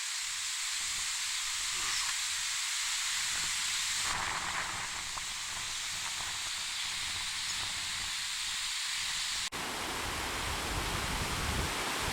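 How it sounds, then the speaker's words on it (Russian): The Torez waterfalls on the Sevastyanka river rush with a broad, steady roar, seen from above. The texture shifts slightly partway through, and there is no speech. "Торезские водопады. Вид сверху."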